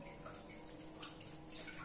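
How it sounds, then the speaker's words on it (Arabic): Warm water is poured into dough for Moroccan chebakia, a soft, steady splashing trickle that runs briefly and faintly without pause. "دابا صافي غادي نبدا نزيد هاد الماء، وكيف ما كان دافي وسخون احسن."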